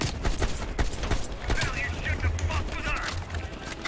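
Rapid gunfire bursts ring out in Call of Duty: Black Ops Cold War on the Ashes to Ashes mission played on Realism difficulty. The shots repeat throughout, some sharp and close, with busy battle noise beneath.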